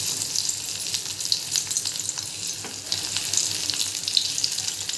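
Stuffed bitter gourds frying in hot oil, a dense continuous hiss of sizzling with faint crackles and pops, close and steady throughout with no talk.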